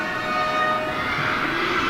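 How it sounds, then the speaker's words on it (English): A train passes in one continuous, loud rumbling wash with steady tonal whines on top, with no voices. "It's a train."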